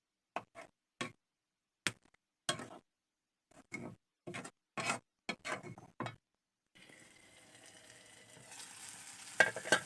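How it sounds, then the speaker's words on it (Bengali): Curry with green chilli, turmeric and coriander powder being sautéed and stirred in a pan: a series of short, sharp scraping strokes of a spoon at an irregular rhythm, followed by a steady, quiet sizzle of frying. "এখন এটা ভালো করে কষায় নিব।"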